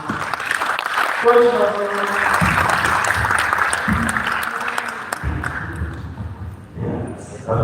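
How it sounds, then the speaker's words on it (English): Audience applause for a coach at a swimming stroke analysis session, a steady broadband clatter of clapping that runs through the whole stretch, with voices speaking over it throughout. "round of applause for"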